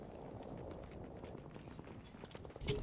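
Footsteps in the video game Apex Legends, a run of quick, soft steps under steady in-game ambience, ending in a sharper, louder impact.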